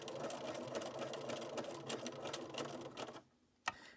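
Sewing machine running steadily as it stitches back and forth over a button's two holes, a continuous close mechanical whir that stops abruptly near the end, followed by a single sharp click.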